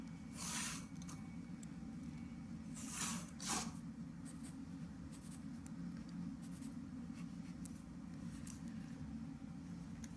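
A pencil sketches a building footing freehand on paper, with a few brief scratchy strokes standing out over a steady low background hum.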